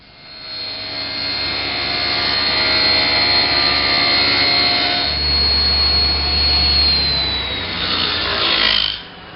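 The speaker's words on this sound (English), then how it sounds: "That's all the cross cut I can get with the table saw." Table saw making a crosscut through wood on a workshop build for a doll house, a steady loud whining roar that holds for several seconds, deepens midway, then cuts off near the end, with no talking.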